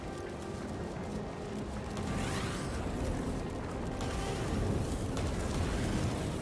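Explosions rumble in the fantasy role-playing game Divinity: Original Sin near a lava pit shrine, a continuous low roaring wash with swelling bursts, moderately loud and without talk.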